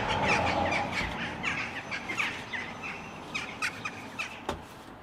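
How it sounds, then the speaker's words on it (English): Several birds sing and chirp outdoors beside a Ford Transit camper van, steady calls repeating over a soft background hiss, with a few sharper chirps standing out near the end. "the birds are singing away there"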